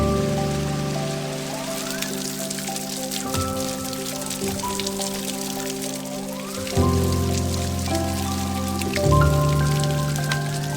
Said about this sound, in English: Oh wow, a bit of a waterfall up ahead.